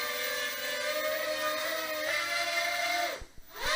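JJRC 1000A quadcopter motors at full throttle, a loud, sustained high-pitched whir that holds for about three seconds, then drops away sharply and briefly spins back up.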